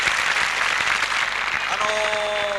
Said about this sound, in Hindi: इनके लिए तालियों से स्वागत कीजिएगा